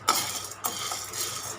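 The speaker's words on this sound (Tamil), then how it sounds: "நம்ம கைவிடாமல் கிண்டிட்டுருங்க," Moringa leaves frying in a pan and stirred continuously, heard as a few close metal spoon scrapes against the pan over a faint hiss, short and quiet.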